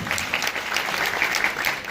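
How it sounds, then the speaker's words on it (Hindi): An audience gives a retiring teacher enthusiastic applause at a school cluster-centre retirement ceremony, a dense, steady burst of clapping that lasts about two seconds. "और नागौर जी के लिए जोरदार तालियां होना चाहिए"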